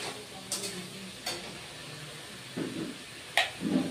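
Spinach fries briefly in a pan, a faint low sizzle broken by a few sharp spatula scrapes and clicks against the metal, close by and quiet.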